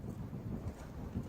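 Strong gusty wind of about 10 to 15 miles per hour buffets the microphone at an outdoor muzzleloader shooting range, a rough low rumbling roar that rises and falls throughout the short stretch.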